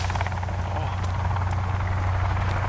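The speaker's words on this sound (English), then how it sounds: "They just got another helicopter right here. He's coming down" A helicopter flies in the video game Sons Of The Forest with a steady, loud rotor thump and engine drone. Voices talk over it.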